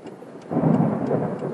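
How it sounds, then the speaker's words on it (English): Deep thunder from a nearby storm cell at Majors Creek swells abruptly and rolls on heavily, a dense low rumble over a faint patter of rain. "Beautiful little thunderstorm cell."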